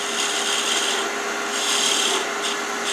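A woodturning tool cuts away waste wood from a chess pawn spinning on a lathe, a steady close rasping scrape that carries on without a break, with no talk.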